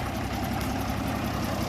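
A 1961 Case 930 diesel tractor engine idles steadily up close, a dense, even low rumble with no talk over it.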